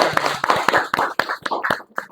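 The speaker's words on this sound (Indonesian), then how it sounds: "kita beri tepuk tangan" A classroom of students claps, giving a short round of distinct, fairly loud hand claps in an uneven rhythm that starts out quick and then grows sparser.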